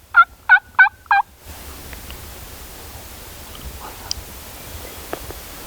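A Merriam's wild turkey gobbles once in a rapid burst of four loud, rattling notes at moderate distance, followed by quiet outdoor ambience with a few faint distant bird chirps.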